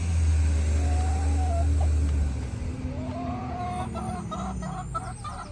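Backyard chickens and young roosters cluck with short rising calls, heard alongside a truck engine that rumbles loudly at first and then fades into a steady background drone.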